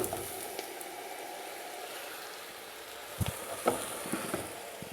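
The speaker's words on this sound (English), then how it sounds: "All right, we'll put the chicken bones in" Chicken bones sizzling and crackling in a stockpot, a soft steady fry with a few sharp clinks and bumps near the end.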